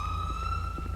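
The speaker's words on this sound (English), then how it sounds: "There goes the sirens." Police car siren in Grand Theft Auto, a steady high wailing tone held with a low rumbling engine drone beneath it, loud and close throughout the short burst.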